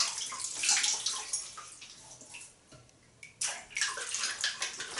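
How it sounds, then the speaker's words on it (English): Water splashes and drips close by as someone wets their face before shaving with glycerine face soap, with irregular sloshing bursts and a brief quiet pause in the middle. "I'm going to wet the face."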